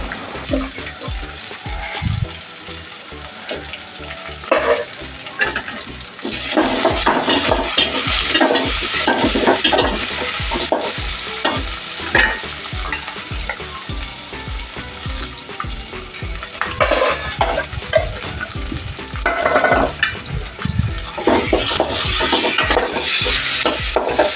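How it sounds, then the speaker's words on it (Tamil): Tomatoes and two green chilies sauté in a pan for a chickpea gravy. A loud, continuous sizzle is broken by frequent scraping and clattering of stirring throughout, close up, with no talk. "அதையும் நல்லா வதக்கிடலாம்."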